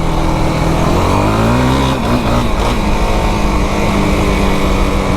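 A Yamaha YFZ 450R ATV engine roars loud and close while riding off-trail on ground wrecked by monsoon rains, holding a steady drone with a brief dip and rise in revs partway through.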